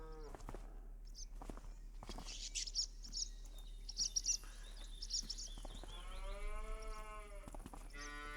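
Cattle mooing in a farming video game set at a harvest farm, several drawn-out lowing calls rising and falling, near and fairly loud, with chirping birds in the background and no talk.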